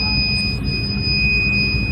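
A steady electronic buzzer alarm sounds continuously from an ammonia gas sensor system on a livestock farm once the level passes 25 ppm. It is a loud, unbroken high-pitched tone over a low background hum.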